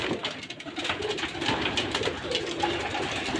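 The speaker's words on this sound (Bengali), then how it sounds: "এই দর্শক এটা সবুজ কবুতর" Giribaz pigeons coo in their loft amid continuous soft fluttering and rustling, a busy, fairly close chorus of birds with no talking.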